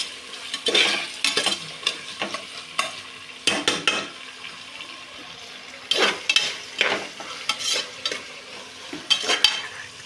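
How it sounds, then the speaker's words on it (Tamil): Onions frying in oil for veg biryani and being stirred in a pan, with repeated bursts of scraping and sizzling coming in uneven clusters over a quieter continuous frying hiss. "நல்லா பாருங்கள், வெங்காயம் நல்லா வெந்து வருது"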